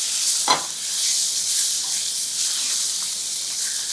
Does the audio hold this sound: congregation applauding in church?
no